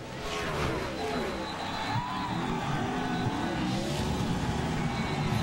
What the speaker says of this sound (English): Now they'll make that run down to that big hairpin turn. Look at Harvick sliding sideways